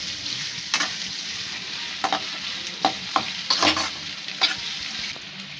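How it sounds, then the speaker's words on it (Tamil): Onion, green chili and curry leaves sautéing in a pan, a continuous soft sizzle with a series of sharp spatula scrapes and taps at irregular intervals, no talking. "இப்போ இது எல்லாத்தையும் நல்லா வதக்கி விட்டுடலாம்"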